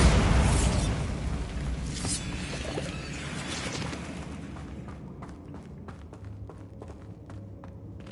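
A Bombarda spell explosion in Hogwarts Legacy opens on a loud, broad boom that slowly fades into a rumbling tail, with small crackling pops trailing near the end.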